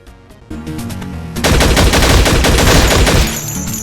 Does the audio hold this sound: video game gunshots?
yes